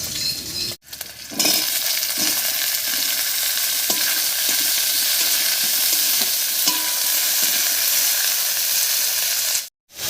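Cut brinjal hits hot oil with already-fried green chilli and ginger, giving a loud, continuous sizzle with scattered clinks of a stirring utensil against the pan, briefly cut off at the start and end.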